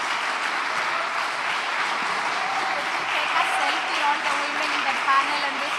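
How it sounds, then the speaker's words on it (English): Audience applause for female leaders at a talent summit, steady sustained clapping from a crowd throughout, with no voices rising above it. "Please, a big round of applause for our female leaders."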